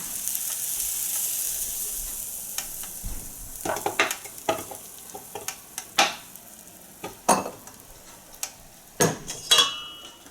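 Waffle batter filling a hot waffle pan, a soft hiss at first giving way to scattered sharp pops and crackles that come in irregular bursts, no speech.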